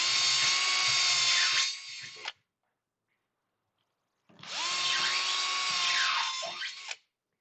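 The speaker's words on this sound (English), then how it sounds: "Now what I'm going to do now is drill these holes down to full depth, which in this case is going to be about 45 mil." A power drill bores hinge holes to full depth in a hydrofugo cabinet door, two close, loud whining bursts of about two and three seconds separated by silence, each ending with a brief pitch drop and stop.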